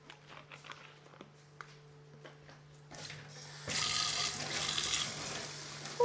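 Water runs into a container at home during a morning routine, a steady broadband rush starting partway through and continuing to the end after quieter clatter and a low steady hum.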